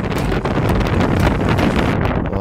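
Relentless strong wind in the Atlas Mountains of North Africa blasts the microphone, a loud, dense rumbling roar that holds steady before briefly dropping near the end.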